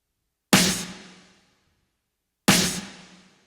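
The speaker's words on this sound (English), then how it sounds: "So then I have this snare drum," Two dry, unprocessed snare drum hits about two seconds apart, each a sharp bright crack with a short decaying rattle, close and alone in silence.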